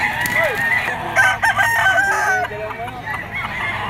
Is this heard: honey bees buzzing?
no